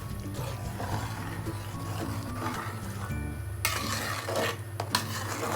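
Rice with red chili, cumin and coriander powders is stirred in a cooking pot, giving continuous scraping and light metallic clinks of a utensil against the pot over a soft sizzle.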